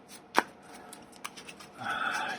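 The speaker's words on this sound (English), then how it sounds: "I am shuffling this really badly." Trading cards for a Yu-Gi-Oh deck being shuffled by hand, a few soft close taps and riffles followed by a brief rustling swish, with no talk.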